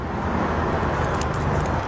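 A parrot imitates a car engine starting, producing a continuous, rough, rumbling mechanical noise at fairly high volume with faint higher clicks near the end, and no speech over it.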